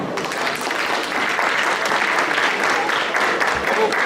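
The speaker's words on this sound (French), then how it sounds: "Je pense qu'on peut les applaudir." Audience at a gastronomy fair applauding cooking contestants, a dense, steady wash of clapping from a sizable crowd that carries on throughout, with faint voices mixed in.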